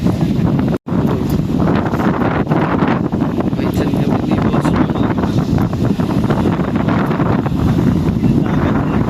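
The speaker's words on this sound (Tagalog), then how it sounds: "Lakas ng hangin." Strong wind at a beach with white sand and big waves buffets the microphone in a loud, continuous roar, with a brief dropout early on and a voice speaking briefly.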